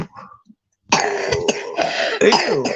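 A girl gives a few harsh, throaty coughs up close, loud and rough, after a faint quieter sound and a short silence.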